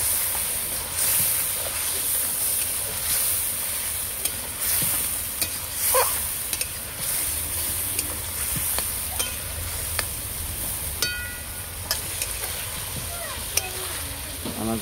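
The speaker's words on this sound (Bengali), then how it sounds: "লঙ্কা, অল্প একটু জিরে গুঁড়ো, ভালো করে কষিয়ে নেব।" Turmeric, chilli and cumin powder being stir-fried in oil in a pan, a steady close hiss and sizzle with scattered spatula scrapes and taps throughout, without voices.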